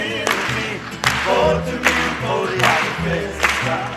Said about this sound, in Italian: Anche qua applauso